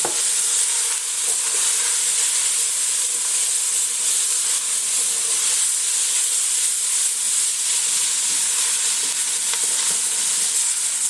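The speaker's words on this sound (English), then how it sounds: "add these aromatics, and it's going to be a big and wonderful sound and a cloud of delicious steam" Loud, steady sizzling and hissing as aromatics fry in a hot roux for gumbo, with occasional stirring scrapes, continuous and close.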